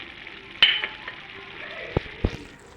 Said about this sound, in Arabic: وبعد ما تقلى شوي زدتو شوية لحم مفروم وخليتهم يتقلوا مليح